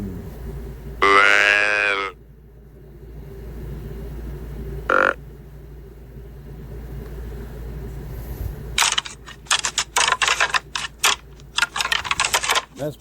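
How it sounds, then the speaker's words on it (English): A doe grunt deer call sounds from a hunting call app as one short, loud guttural burst near the start, followed by a second brief, fainter grunt; a run of rapid clicking and tapping noises comes later. "a doe grunt"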